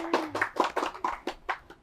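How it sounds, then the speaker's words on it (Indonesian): A small audience claps for a student association chairman being welcomed, a brief burst of applause heard as a series of distinct, fairly close hand claps at an uneven rhythm, with no talking over it. "Oke, tepuk tangan dulu dong."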